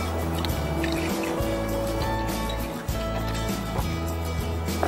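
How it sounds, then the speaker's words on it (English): Water runs continuously as cleansing milk is rinsed off hands, a close, steady splashing and trickling with small drips and wet squishes throughout. "After 1 minute, I'll wash off the cleansing milk from my hands."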